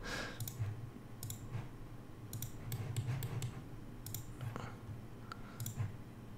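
Rapid mouse clicks from work in 3D modeling software while setting up a car model for Assetto Corsa, arriving in short irregular bursts of sharp, close clicks with no talking.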